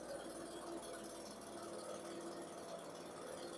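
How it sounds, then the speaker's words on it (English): A leaf blower idling while blowing crumbs and debris off patio pavers, a steady, even engine drone with a continuous airy hiss, constant in level throughout, with no speech. "You don't even need to use the trigger on a blower. Just the normal idle is enough to get it off there."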